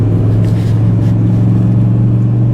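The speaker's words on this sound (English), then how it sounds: "73 in an MX-5 with BF Goodrich Comp 2 tires. Flat out down the back straightaway." A Mazda MX-5 on BF Goodrich Comp 2 tires runs flat out down a track straightaway, its engine a loud, continuous droning rumble with steady harmonic tone from inside the car.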